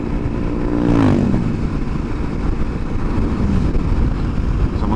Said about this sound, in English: Someone on his KTM making the most of it.